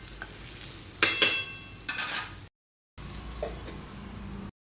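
Brinjal pieces stirred and sautéed in a pan, with a spatula scraping in a few short bursts over a soft sizzle, then a brief pause before the quieter frying resumes.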